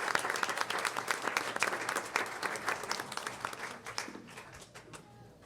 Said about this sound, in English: Could we please give these schools one more round of applause for their efforts this year?